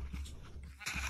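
Sheep on a video game farm bleat faintly, with a short bleat near the start and another rising at the end over a low background hum.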